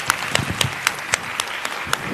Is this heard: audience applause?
yes